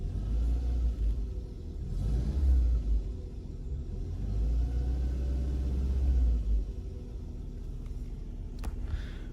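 An old car's engine idles low and rough after starting, its heavy rumble swelling and easing in waves at close range before settling into a quieter hum.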